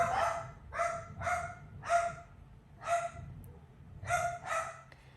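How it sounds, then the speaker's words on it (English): Several dogs barking in sharp, repeated bursts of about eight barks over five seconds, fairly close and loud, with a low background rumble and no talking. "I know y'all don't want to hear dogs barking."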